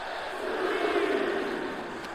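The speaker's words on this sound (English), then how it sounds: "Listen to the crowd." Arena crowd in WWE 2K24 during a WCW Monday Nitro match, a broad sustained roar that swells in the middle and stays dense throughout, with no voice over it.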